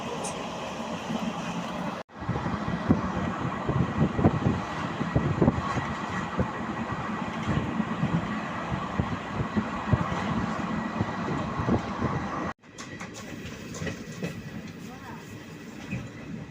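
Steady rumbling train noise with rhythmic rattling and clatter, loud and close, heard from inside a moving unreserved coach of the Jolarpettai–Chennai Central Yelagiri Express, with brief cuts in the sound.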